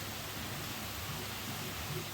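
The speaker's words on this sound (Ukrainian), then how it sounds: "Ви бачите, який сильний дощ тропічний?" Heavy tropical rain in Thailand, an even, steady hiss of downpour throughout, fairly faint and with no voices over it.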